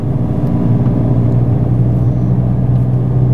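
BMW E46 M3 engine under throttle with a paddle-shift gearbox, a dense low rumble heard from inside the car, steady and loud throughout with no clear gear changes.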